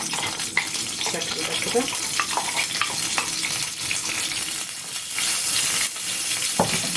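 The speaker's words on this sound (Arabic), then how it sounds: "انا حطيت هنا زيت، هنزل بمعلقه توم" Garlic hits hot oil in a pot for Egyptian koshari and sizzles steadily, with stirring clatter and a few sharp utensil knocks, close and loud throughout. Someone speaks briefly over the frying.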